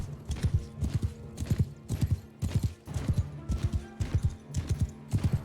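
Rhythmic clip-clop of a cataphract's horse hooves in Bannerlord, a steady galloping beat of strong low thuds repeating several times per second, close and loud with no talk over it.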